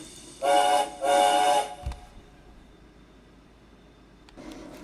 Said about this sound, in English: even as the guard blew his whistle